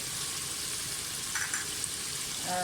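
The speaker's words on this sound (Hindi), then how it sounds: "लहसुन अदरक जो है वो भी अच्छी तरह से भुन चुका है" Garlic and ginger fry in a pot for mutton chana dal gosht, a soft even sizzle running throughout with faint brief clinks near the middle, no voices.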